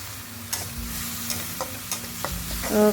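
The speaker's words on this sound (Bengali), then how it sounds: "ভালো করে মশলার সাথে পেঁয়াজটাকেও ভালো করে কষিয়ে নেবো একটু।" Onion frying with turmeric, salt, chilli powder and cumin powder for a Bengali pomfret curry, with a steady close sizzle and several sharp ticks of a spatula scraping the pan.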